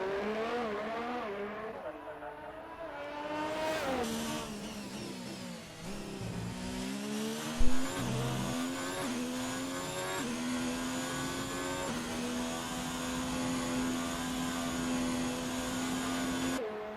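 A race car in a racing video game runs a lap at Baku on soft tires, its engine revving loud and continuous through the gears, with pitch rising and dropping at the shifts and one brief thump partway through.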